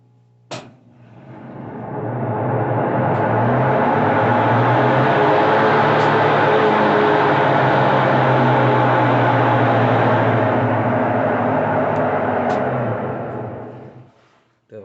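A washing machine in its spin cycle makes a loud, steady whirring roar that builds up after a click, holds for about twelve seconds, then winds down to a final knock.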